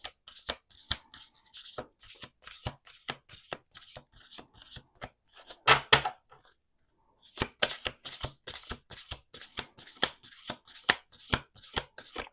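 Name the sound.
shuffling tarot cards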